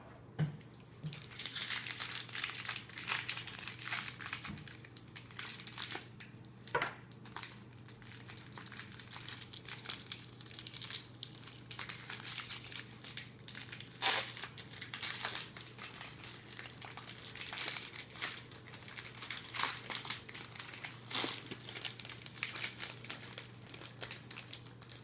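Plastic-wrapped Mage Knight skill card packs being unwrapped, a long run of close, crisp crinkling and tearing of cellophane in irregular bursts over a low steady hum.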